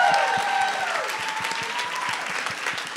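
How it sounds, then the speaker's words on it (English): An audience at a Christmas charity concert gives steady applause after a singing performance, a dense, even wash of clapping throughout, with a faint ringing tone drifting above it early on. "another round of applause just for Cory and his singing tonight."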